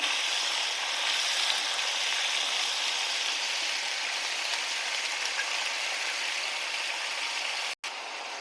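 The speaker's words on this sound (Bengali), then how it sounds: "লবণ দিয়ে দিয়েছি ভালো করে ভেজে নেব আলু আর চিচিংটা" Potato and snake gourd frying with salt in a pan give a steady, dense sizzle that holds evenly throughout, close and fairly loud, broken by a single brief dropout near the end.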